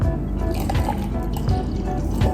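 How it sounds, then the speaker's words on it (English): Coffee being poured into a drink, dripping and splattering down the side of the container before falling, a continuous wet trickle with close, squishy drips throughout and no talking. "Every single time I pour something, it doesn't just pour directly, it drips down there and then it just falls."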